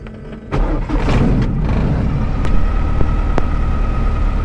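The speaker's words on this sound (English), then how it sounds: "the UL power is very easy to start. All I have is a throttle and a key." A UL Power engine on a Zenith CH 750 Cruzer light sport aircraft cranks and catches, rising into a loud, rough, steady running roar close by with a few sharp clicks.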